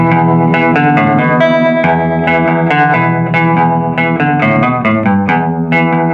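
Electric guitar played through a pre-CBS Fender amp with its vibrato/tremolo intensity turned up and speed set to noon, strummed chords and single notes ringing continuously, loud and close with a pulsing, effected shimmer.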